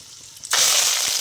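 Fenugreek seeds hit hot oil and burst into a loud, steady sizzle with crackling spatter, rising sharply after a quiet start, while fish curry is cooked.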